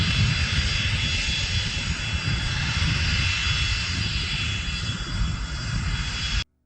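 Jet engines of a business trijet roar steadily and loudly throughout, a constant close drone that cuts off abruptly at the end.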